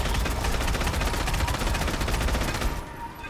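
Minigun in the video game Haze fires a dense, continuous roaring stream of rapid shots for nearly three seconds, loud and close, before cutting off abruptly.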